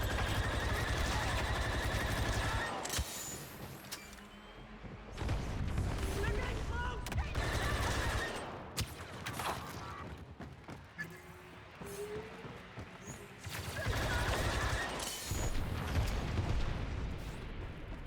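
Gunfire and heavy blasts in the Star Wars Battlefront 2 video game, repeated loud bursts of shots and explosions in waves with brief lulls between them, mixed with battle noise.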